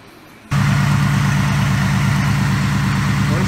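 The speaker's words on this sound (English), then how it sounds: "First start up with the intake modified. Fired right up, no problem." A Saleen car engine, just back together after an intake manifold repair, fires up abruptly from silence and settles into a loud, steady idle with a throbbing low rumble.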